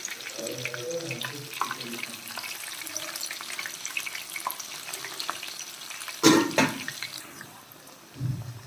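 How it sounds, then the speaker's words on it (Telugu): Green chillies for mirchi bajji fry in hot oil, giving a steady, soft bubbling sizzle throughout, with a sharper burst of crackling near the end and a low thump just after. "వీటిని ఎర్రగా అయ్యేదాకా కాల్చుకోవాలి, బ్రౌన్ కలర్ వచ్చే వరకు."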